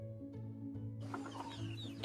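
Chickens cluck and chatter faintly in a village yard in the Konkan countryside, soft scattered calls in the second half over a low steady engine-like hum, with no talk.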